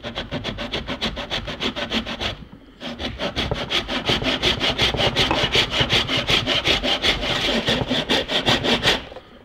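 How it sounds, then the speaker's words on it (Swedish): Hand saw cutting through a wooden box held in a saw support, rapid rhythmic back-and-forth rasping strokes, close and loud, with a brief pause before sawing resumes steadily. "Jag sätter i sågen."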